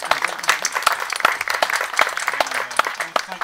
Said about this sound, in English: Give them a big applause for getting all this on tonight.